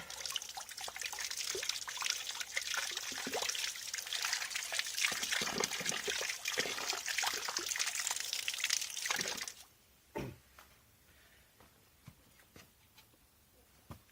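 An old number 3 iron, rusty and taken out of an acid bath, is rinsed under a running tap. Water splashes and trickles steadily for about ten seconds and then stops, followed by a few faint drips and handling knocks.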